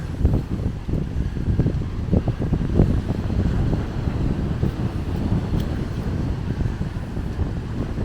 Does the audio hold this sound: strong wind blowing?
yes